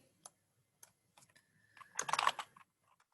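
Quiet typing on a computer keyboard, a few isolated key presses followed by a brief cluster of quicker clicks, close and soft in a hushed room.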